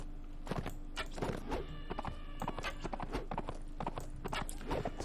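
Horse hooves clip-clopping in Mount & Blade Imperial Rome as a lame horse is ridden at night in the rain: steady, close, repeated hoof strikes in an uneven rhythm, with no talk over them.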